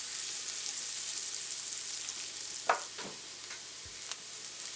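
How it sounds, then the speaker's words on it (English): Onions caramelizing in butter in a cast iron skillet make a soft, steady hiss, with a few brief stirring scrapes and a light tap near the middle, close but quiet, and no one talks. "Coat the onions in the butter. And this way it's gonna caramelize much faster"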